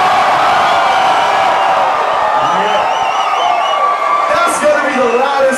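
At a concert in St. Catherine, a packed audience keeps up continuous roaring cheers and scattered whoops, loud and steady with no break.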